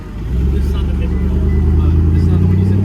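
A Mercedes C32 AMG engine idling with a deep, steady rumble, close and loud throughout, with some indistinct talk mixed in.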